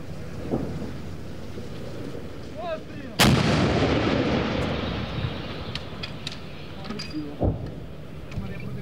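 A single powerful artillery gun blast at the front line near Bakhmut booms nearby and rolls away in a long rumbling echo, with brief voices and a smaller bang later.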